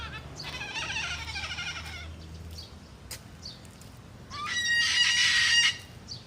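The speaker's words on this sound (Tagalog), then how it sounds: "Umiiyak yung ibon." A bird gives two loud, drawn-out chicken-like crowing calls, one at the start and one near the end, with a quiet stretch between.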